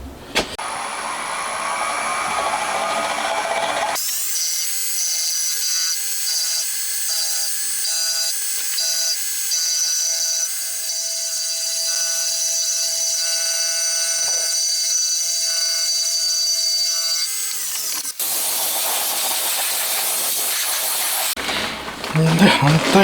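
A file scraping flat the faces of a cast cylinder head for a handmade 125cc four-cylinder 16-valve engine, a steady, harsh, continuous rasping that runs for about fifteen seconds between other brief noises.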